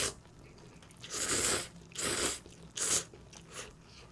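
Snack ramen noodles (Snack Myeon) being chewed up close, with three distinct bursts of crunchy, wet biting and mastication separated by short pauses and no talk over it.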